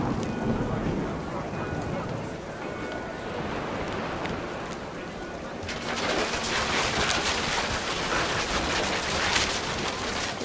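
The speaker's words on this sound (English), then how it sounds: "The rain came down in buckets then" Steady heavy rain pours throughout in the video game What Remains of Edith Finch, with a low rumbling roll of thunder building midway and the downpour growing louder and hissier afterward.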